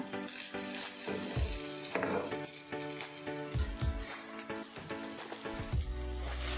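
Goat head curry masala frying on high heat in a pan, a steady loud sizzle with intermittent scraping stirs and clanks of a spoon throughout.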